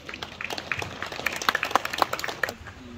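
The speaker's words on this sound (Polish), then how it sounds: "Brawa." A small gathering of volunteer firefighters gives brief, scattered applause, a few dozen uneven claps at moderate distance over about three seconds, fading out.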